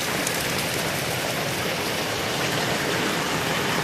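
Heavy monsoon rain pours steadily and densely in rural Odisha at the start of the farming season, a constant loud hiss of drops without pause or other sounds.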